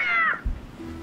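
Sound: cat meowing in the Tintin Reporter video game

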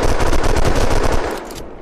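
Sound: gunfire from the video game Unturned

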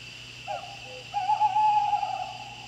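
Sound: cuckoo calling, from a video game

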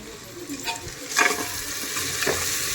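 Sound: whole spices like cinnamon and clove frying in oil

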